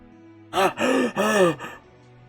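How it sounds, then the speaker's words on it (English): A man lets out a sharp, shearing gasp in the Choices: Nightbound story game. It is a loud, close, strained voiced breath rising and breaking over about a second. "the man thrashes up with a shearing gasp"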